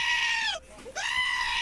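Screaming goat sound effect, a single strained, wavering bleat that cracks mid-cry and then resumes, moderately loud and isolated.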